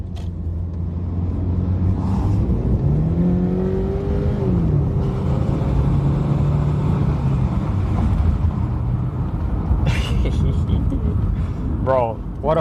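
A car drives off and accelerates with a rising engine whine and steady road rumble, loud and close, while people talk over it and a brief chirp sounds near the end.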